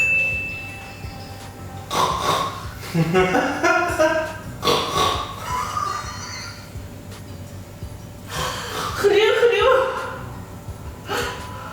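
A person makes repeated snorting, grunting noises imitating a pig, several bursts separated by short pauses, close and fairly loud.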